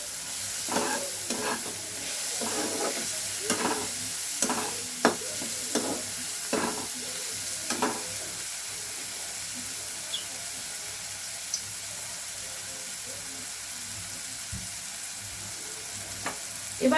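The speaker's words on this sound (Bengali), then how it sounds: "আস্তে একটু কমিয়েই নাড়াচাড়াটা করো।" Food stirred gently in a frying pan produces repeated scraping strokes over a continuous sizzle for the first half. The strokes then stop, leaving a steadier hiss with a few scattered clinks, all close with no voices.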